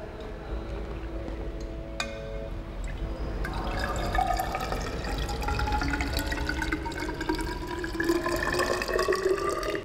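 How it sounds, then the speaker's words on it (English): Water poured from a jug into a 500 millilitre measuring cylinder in a classroom maths demonstration, with a short drip first, then a steady rising trickle and fill whose pitch climbs as the level goes up. "We now take 500 milliliters measuring cylinder and pour water up to"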